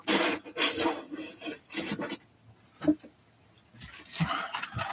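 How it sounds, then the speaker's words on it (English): Sandpaper rubs the rough, freshly sawn edge of a wooden board, several short rasping strokes in bursts with pauses between, close and moderately quiet. "Some sandpaper because that blade doesn't leave the nicest edge after I cut"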